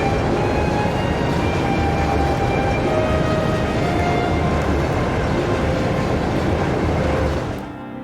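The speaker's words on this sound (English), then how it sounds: "High-speed train Crusade" Steady rumble of the high-speed train Crusade riding on rails in the video game Trails of Cold Steel 2, a loud continuous roll with faint tonal whines, fading out at the very end.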